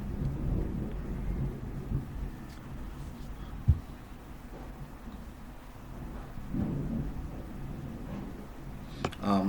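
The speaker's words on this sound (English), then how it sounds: "I apologize for the noise because it even took me off guard, but it's raining" Thunder rumbles outside over steady rain during an indoor computer lecture, with low rolling booms, a sharp crack near the middle and another burst at the end, all moderately loud and without talk.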